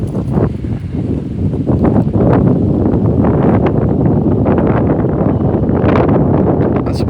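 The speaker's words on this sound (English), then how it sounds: "the wind is just beating it up, man." Strong outdoor wind buffets the microphone in continuous loud gusts and rumbles throughout, with no clear speech over it.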